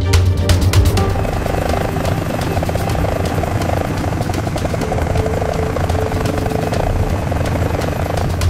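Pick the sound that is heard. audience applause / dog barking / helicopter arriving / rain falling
helicopter arriving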